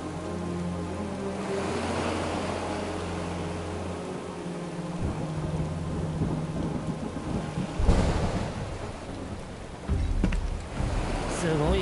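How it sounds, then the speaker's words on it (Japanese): Heavy rain pours steadily in Final Fantasy VII Rebirth, with deep rolling thunder building in the background and sharper thunder cracks rising out of the constant downpour later on. "すごい雨だな。"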